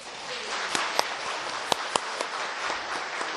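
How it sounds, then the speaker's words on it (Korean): A church congregation at a Korean evangelism-rally service claps together, producing a steady wash of many hands with a few sharper nearby claps standing out. "그리고 박수 같이 해주시기 바랍니다."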